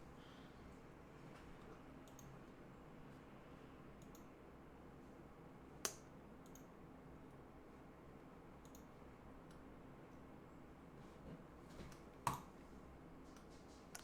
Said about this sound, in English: I'm just clicking on stuff.